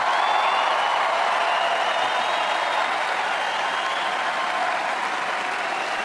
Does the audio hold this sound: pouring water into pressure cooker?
no